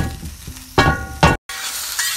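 Onion and garlic hit hot oil with frying tofu, setting off loud bursts of sizzling, with stirring clatter and a brief dropout between steady frying hiss.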